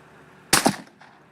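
Two sharp shotgun blasts fired in quick succession at clay targets, loud and close, each with a brief fading tail and a faint echo after.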